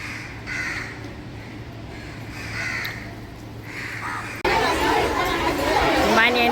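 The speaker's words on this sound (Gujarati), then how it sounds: "ચાલો હું કાગડાની રોટલી નાખી દઈએ. હવે 1-2 દિવસ કાગડાની રોટલી નાખવાની છે." Several crows caw repeatedly at close range as roti is put out for them, harsh calls recurring throughout, growing louder and busier toward the end, with people talking nearby.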